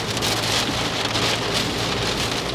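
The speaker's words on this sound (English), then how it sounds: "I'm not sure if you can hear the rain" Steady rain pours down close by, a dense continuous hiss of drops on hard surfaces with no pauses.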